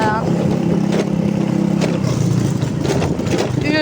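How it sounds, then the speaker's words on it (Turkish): A 150cc scooter engine runs steadily at close range with a low, buzzy drone and a few revving swells, while a person talks over it throughout. "Motorun sesi çok güzel ya."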